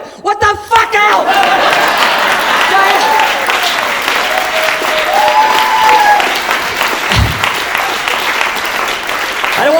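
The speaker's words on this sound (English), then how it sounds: "I don't want your claps, other white people." Comedy club audience applause, loud and sustained with cheering voices mixed into the steady clapping, running close and full throughout.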